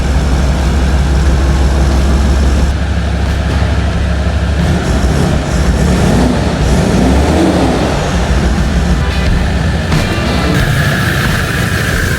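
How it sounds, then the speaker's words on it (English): A vehicle engine fitted with new injectors, new starter motor and new fuel cooler runs steadily at close range, a loud continuous low rumble with a droning hum throughout and no talking. "The new injectors do sound different."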